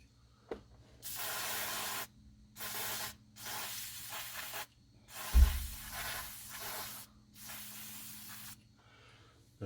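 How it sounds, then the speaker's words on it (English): Aerosol cleaning spray hissing in five or six separate bursts, each one to two seconds long with short pauses between, close and fairly loud. "Probably use a bit more of a targeted spray for this one."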